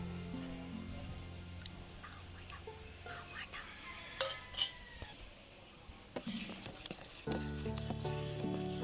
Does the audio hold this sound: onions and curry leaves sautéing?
yes